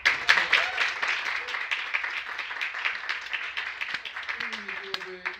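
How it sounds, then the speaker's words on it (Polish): Audience clapping at the opening ceremony of a music arrangement festival, a burst of applause that starts loud and tapers gradually, with a voice and musical tones entering near the end. "Alicja Felisiak, proszę o brawa."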